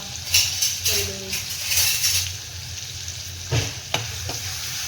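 Fish curry with coriander, Agri Koli style, fries in a pan with a loud, close sizzle and several sharp clinks and scrapes of a spoon stirring the pieces.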